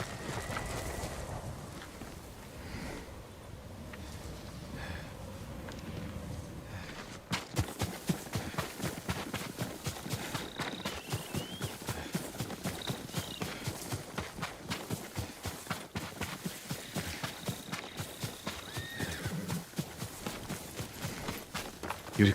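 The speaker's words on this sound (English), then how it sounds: "Yuriko's horse. She can't be far." A horse's hooves clop in Ghost of Tsushima, starting after a quieter stretch and continuing as a steady rhythmic beat, close and fairly loud, with faint birdsong.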